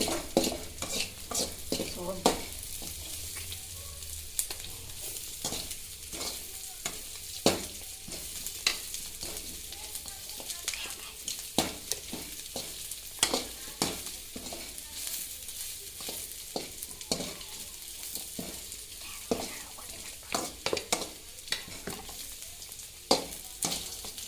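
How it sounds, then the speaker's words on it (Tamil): Curry leaves and chilies, along with chana dal, sauté in oil in a pan for fish curry, with a constant sizzle under repeated scraping strokes of a spoon stirring against the pan, close and steady, with no talking. "கருவேப்பிலை, மிளகாயெல்லாம் போட்டு நல்லா வதங்குற மாதிரி நல்லா தொலாவி கொடுக்கணும்"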